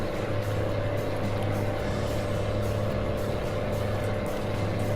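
A Mack MH 600 truck engine in American Truck Simulator, pulling uphill at around 2,000 RPM: a loud, constant droning hum with a steady low tone and no break, with no talk.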